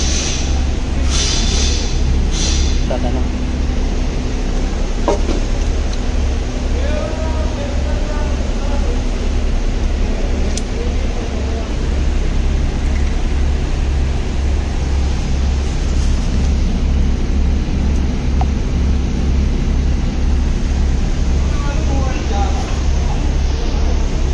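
A 2022 Chevrolet Tahoe GMC eight-cylinder SUV engine runs after a camshaft and lifter replacement, giving a loud, steady, continuous low rumble.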